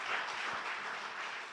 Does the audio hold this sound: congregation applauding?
yes